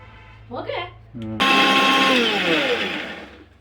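A short voice at first, then a mixer grinder whirs on loudly and runs steadily, its motor pitch gradually falling as it winds down.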